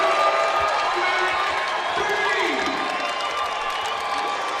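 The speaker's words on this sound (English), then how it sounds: "This Sioux Falls crowd starting to realize how close they are to a championship." A basketball crowd in Sioux Falls cheers and roars during a championship game, with dense sustained arena noise, shouts and squeaking sneakers, and a commentator talking over it.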